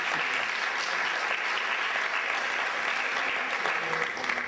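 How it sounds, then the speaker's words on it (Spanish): Audience at a ceremony breaks into sustained applause, dense steady clapping from a sizeable crowd lasting throughout, fairly close and even in volume. "Un fuerte aplauso."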